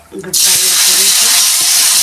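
Gatta dumplings hit hot tempering oil with a sudden loud, sustained sizzle that bursts in after a brief murmur and stays steady and close to the end.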